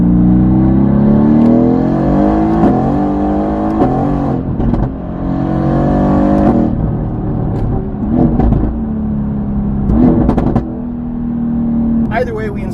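A Mercedes-AMG GT-R fitted with an Fi catback exhaust revs hard in a series of sharp rises and falls, each throttle blip snapping up then settling back to a deep, burbling idle between pulls.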